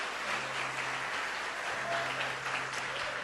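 A church congregation claps steadily in dense, even applause that fills the space, with a low hum underneath and no voices over it.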